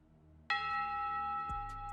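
A single loud strike of a bell-tower bell rings out, its bright metallic tone sustaining and slowly decaying, with a second lower clang entering partway through.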